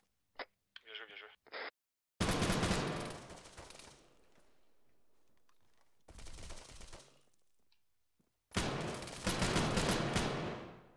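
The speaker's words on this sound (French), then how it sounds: "Ah mais ça tire dans la maison juste à côté de moi là." Gunfire from a house close by in a video game, coming as loud dense bursts of rapid shots separated by quieter stretches, with brief speech-like sounds at the start.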